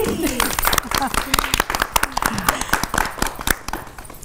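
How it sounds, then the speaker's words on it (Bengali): At a ladies' club birthday celebration, a room of people claps loudly in a dense patter of sharp claps, with voices chattering over it. "সবাই জোরে তালি"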